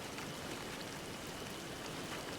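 Rain falls in the video game Disney Dreamlight Valley, a soft, even, continuous patter with no talking.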